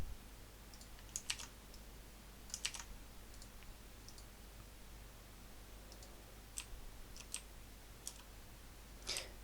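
Quiet, scattered clicks of a computer keyboard being typed on in short bursts while entering code, faint against a low steady hum, with no talking.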